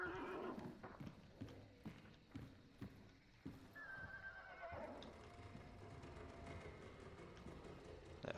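A horse in the video game Hunt: Showdown clip-clops with hoof steps and gives a rising whinny partway through, all faint against low in-game ambience.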